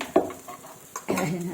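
Avial being stirred in a cooker pot, with a few scraping clatters of a spoon against the metal pot, loud and close, without speech.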